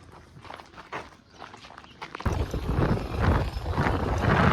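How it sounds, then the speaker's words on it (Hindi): Donkeys' hooves clop along in an uneven walking rhythm, close by, joined midway by louder rumbling background noise, on a trek in the Mewar hills. "गधा मजूर देख लो सब।"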